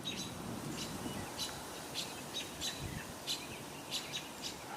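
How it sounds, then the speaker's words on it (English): Robins and a gray catbird call from outdoors, with repeated short chirps and song phrases scattered through the clip over a soft, steady background hush of moderate distance. "So you can hear at least a couple robins vocalizing"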